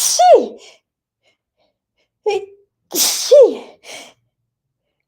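A person sneezes loudly at close range, with a sharp gasping sneeze, a short breath, then a second forceful sneeze, and a brief voice answering in between.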